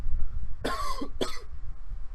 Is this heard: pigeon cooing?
no